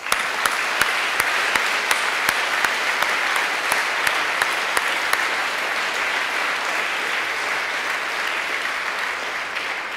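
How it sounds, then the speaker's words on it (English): Steady applause from a crowd, dense and continuous for several seconds, with a few sharper individual claps standing out early on. "They deserve applause."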